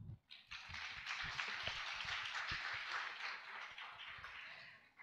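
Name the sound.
audience applause for panel discussion participants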